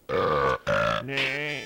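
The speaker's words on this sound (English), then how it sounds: "A burp chorus. That's fantastic." Three loud, harmonically rich burps in a row sound from a chorus of characters in the video game Donkey Kong 64, each a sustained voiced belch with a short gap between them, heard alone without talk.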